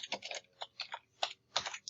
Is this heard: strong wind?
no